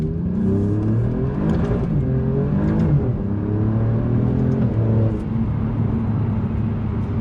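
A 2020 Alfa Romeo Giulia Quadrifoglio is driven hard, its engine rising and falling through several revving pulls and gear changes, loud and close throughout with no speech.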